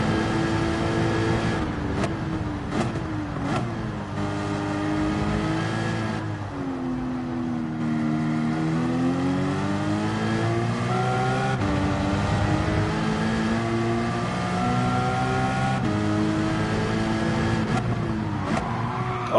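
Porsche race car engines in Gran Turismo 7 during a C-rank race, a steady loud roar with rising and falling pitch as the cars accelerate and shift, running continuously throughout.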